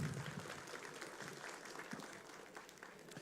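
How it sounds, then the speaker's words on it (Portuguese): An audience at a panel on a national information security policy applauds to welcome the moderator, a faint, steady wash of distant clapping with a little voice beneath. "vamos receber com uma salva de palmas"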